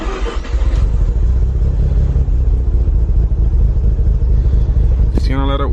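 Loud close rumble of a modified Mazda FC3S RX7 rotary engine idling on premix gas, steady and throbbing throughout, with a voice speaking briefly over it near the end.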